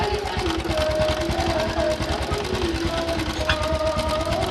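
A Honda Supra X 125 motorcycle engine running rough, a close, loud, steady idle with a fast mechanical ticking clatter throughout, a continuous drone with faint tonal whine on top.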